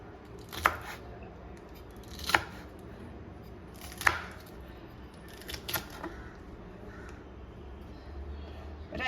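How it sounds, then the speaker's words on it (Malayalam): Beans being cut with a knife on a board for a Kerala-style kurma, giving about five sharp, separate chops spaced a second or two apart over a steady low room hum, with no talking. "ആദ്യം തന്നെ നമുക്ക് ബീൻസ് ഒന്ന് അരിഞ്ഞെടുക്കാം"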